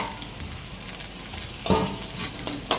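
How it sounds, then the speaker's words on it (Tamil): Onions and tomatoes sautéing in a pan for Indian-style spicy egg pasta: a continuous sizzle close by, with a few scraping stirs toward the end. "தக்காளியும் போட்டு நல்லா தக்காளி வதங்குற அளவுக்கு வதக்க விடுங்க."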